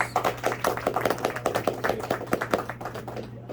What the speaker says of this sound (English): Shall we give Jose a round of applause?